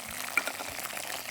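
Fennel seeds and curry leaves tempering in hot oil, giving a faint, steady sizzle and crackle that holds for the whole short stretch with one slightly sharper pop near the start.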